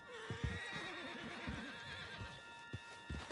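A horse whinnies in a PS4 game scene, its drawn-out neigh rising over hoof clops and a steady background music bed.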